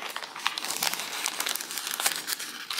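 A plastic craft bag folded and bent to slide out a paper background for a paper art shadowbox, close, continuous crinkling and crumpling with sharp crackles throughout.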